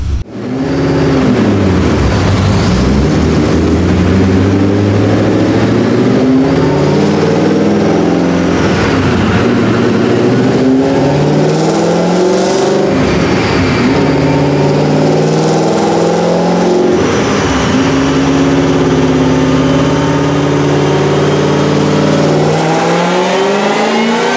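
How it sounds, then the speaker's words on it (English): A 2013 Shelby GT500 with NPR cams and stock supercharger roars through a sustained high-rpm dyno pull, the engine note loud and close with rising and falling harmonics, continuous for the whole stretch without talk. "these GT500s with these NPR cams sound really sweet. So anyway, let's do a pull."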